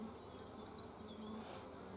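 A dense, steady buzzing of many honey bees close by, a continuous hum with no voices.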